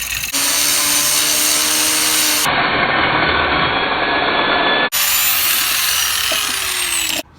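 A power tool spins nuts off the bolts of a BMW E30 bumper in three loud, continuous whirring bursts, each several seconds long and separated by brief cutoffs.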